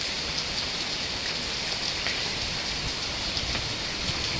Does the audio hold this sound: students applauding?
no